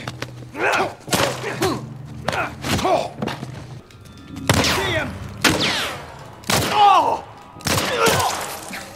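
Gunfire in the video game The Last of Us Remastered comes as a string of sharp, loud bursts spaced irregularly over several seconds, mixed with grunts and gasping vocal sounds between the shots.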